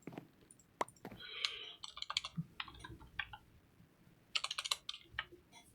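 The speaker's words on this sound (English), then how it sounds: "And typing is also really hard today." Fast irregular typing on a computer keyboard during a modded Minecraft session, close clicky keystrokes in quick bursts with short pauses, fairly quiet and alone without talking.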